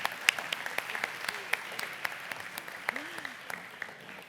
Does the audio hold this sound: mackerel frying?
no